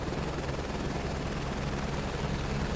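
A helicopter in Microsoft Flight Simulator 2024 drones steadily with a loud continuous rotor and engine hum, a thrumming low pulse under a constant high whine, with no talk.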